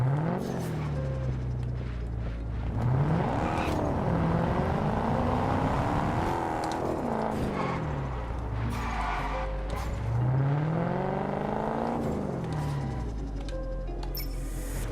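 A Ford Mustang races in the video game Test Drive Unlimited Solar Crown, its engine note climbing and dropping through repeated revs and gear shifts, loud and continuous, with a voice talking occasionally over it.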